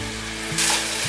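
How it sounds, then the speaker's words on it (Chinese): Carrot and apple with cinnamon stir-fry in a pan, a steady close sizzle with a brief scrape of stirring partway through. "再继续慢慢的拌炒"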